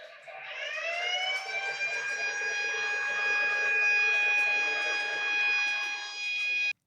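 A Lionel model railroad crossing signal's little air raid siren: a loud, steady electronic wail rises quickly at the start and then holds a sustained, harmonic-rich tone, close and continuous.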